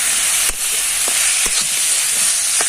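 Grated potato mixture with salt and turmeric stirred in a hot pan, a constant loud sizzle broken by a few sharp spatula knocks against the metal.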